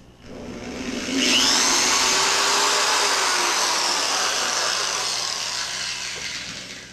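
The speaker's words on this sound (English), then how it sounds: "So once again, drill a hole." A power drill bores a hole in a homemade proton pack neutrino wand, a rising whine that holds steady for several seconds up close, then winds down.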